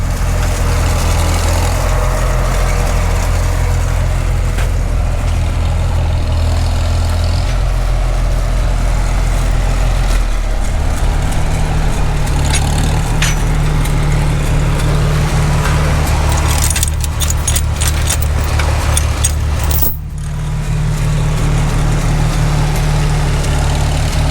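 An old Minneapolis-Moline tractor being towed with its engine running, giving a steady, loud, low rumble close by, with rattles and a brief clunk near the end.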